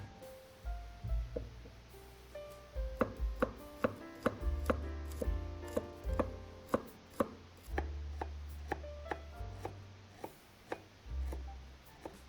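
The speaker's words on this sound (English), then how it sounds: "Mince the garlic and ginger root." Garlic and ginger root being minced with a knife on a board, a steady run of crisp, close chopping taps, some quick and clustered, with no talking.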